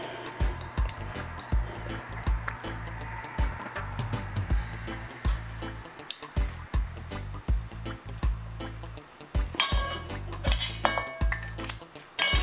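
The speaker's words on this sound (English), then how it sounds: "I'm gonna serve a bit of this salad, just a little bit." Salad served into a bowl with utensils, with steady clinks and knocks of metal against dishes and soft squishy scraping that repeat over about twelve seconds.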